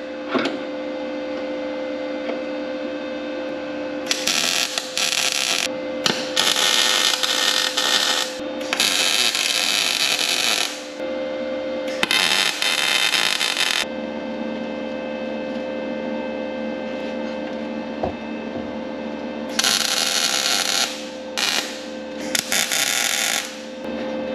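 A body panel bracket is tack welded on a custom vehicle build: several multi-second bursts of harsh crackling, separated by pauses, over a steady background hum.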